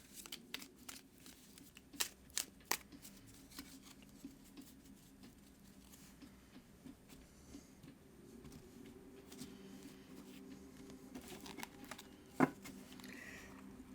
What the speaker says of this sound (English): I'm going to go ahead and shuffle now